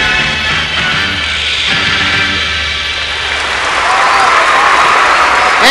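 A large arena crowd applauds loudly and steadily after a gymnast's floor routine at a 1990 international mixed pairs gymnastics competition, a dense unbroken roar of clapping with some crowd noise beneath.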